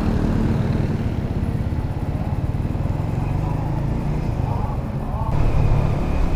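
A Suzuki GSX S150 motorcycle engine runs steadily and loud up close, with a brief rise in revs near the end, while a person talks over it.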